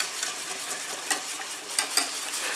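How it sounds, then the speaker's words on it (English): Beaten eggs are whisked into a thick batter in a bowl for mini Yorkshire puddings, a soft continuous scraping whisk with a few sharper clinks against the bowl, fairly quiet, no voices. "make a little well in the middle, add the eggs and start stirring"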